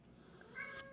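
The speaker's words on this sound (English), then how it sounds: "My kitty cat." Pet cat giving a short meow near the end of a brief moment, fairly close and clear over a quiet room background, with no talking.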